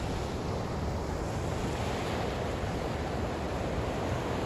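Sea waves at Gollapalem Island in heavy rain make a dense, constant wash of surf and rain, loud and unbroken, with wind buffeting the microphone.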